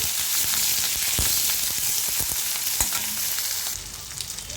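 Green chilies and curry leaves sizzle in hot oil for chivda while being stirred, a dense steady crackle with sharp scraping strokes scattered through and no talking.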